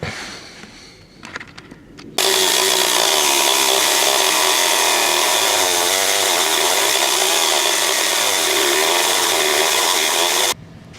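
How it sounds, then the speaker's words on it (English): A Sawzall reciprocating saw cuts through a double layer of metal on a 1992 first-generation Ford Explorer, a loud, continuous buzzing rasp lasting about eight seconds after some quieter handling noise, then cutting off abruptly. "I'm going to take a Sawzall and cut it off here."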